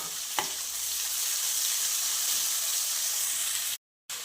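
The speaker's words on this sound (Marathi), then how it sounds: "कांदा छान असा लालसर होईपर्यंत आपल्याला परतून घ्यायचा आहे" Onion sautéing in oil in a pan with curry leaves for spicy roasted eggplant bharit, a steady close sizzle with a faint stir early on, ending in a brief silent gap.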